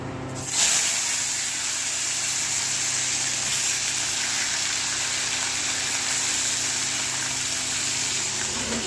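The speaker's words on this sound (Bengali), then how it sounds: "মাখিয়ে তেল চাপিয়েছি এবার ভাজবো" Gule fish coated in salt and turmeric hitting hot oil, a sudden loud hiss that settles into a steady, close, continuous sizzle with no talking.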